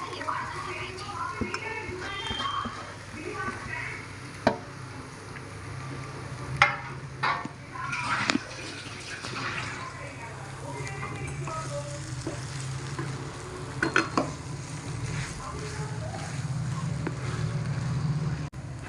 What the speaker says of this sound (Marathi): आता बटाटे टाकून घेते मॅश केलेले.